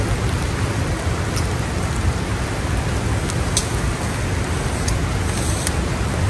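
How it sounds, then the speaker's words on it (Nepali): Rain falling steadily on a Himalayan expedition near Gurja Himal, a loud constant hiss with scattered sharper drop ticks throughout, no voices. "पानी परेको अवस्था"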